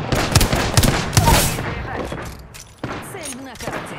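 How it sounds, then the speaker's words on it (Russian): Rapid bursts of gunfire from Apex Legends gameplay, several sharp shots crowding the first second and a half, then fading into quieter game sounds and a few scattered clicks. "стреляю."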